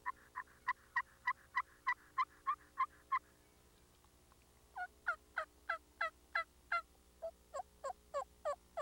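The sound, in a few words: turkey call imitating hen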